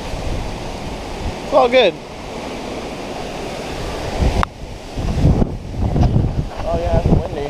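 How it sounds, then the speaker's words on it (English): Strong gusting wind from Hurricane Irma buffets the microphone in a roaring rush of air, swelling and easing with rough bursts, while a person talks briefly and birds chirp faintly. "Oh yeah, it's windy."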